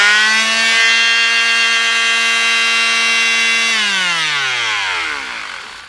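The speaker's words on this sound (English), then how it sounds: "It's a Craftsman sander." A Craftsman sander motor runs with a loud, steady whine, then is switched off and winds down, its pitch sliding lower over the last two seconds.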